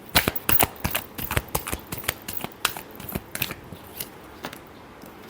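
A deck of tarot cards being shuffled by hand, with a quick run of crisp, close riffling flicks and soft slaps in uneven bursts, heard alone without talk.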